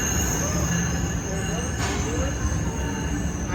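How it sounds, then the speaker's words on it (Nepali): Train pulling into a station, a steady loud rumble with high wheel squeal throughout, close by, with faint background voices. "यही ट्रेन आएको हुनुपर्छ नि साथीहरू"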